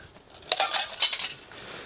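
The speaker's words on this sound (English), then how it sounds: "As you can hear, there's glass everywhere" Broken glass clinking and crunching underfoot on the floor of an abandoned racing pigeon loft: two brief, close, bright clinks about half a second apart, otherwise quiet.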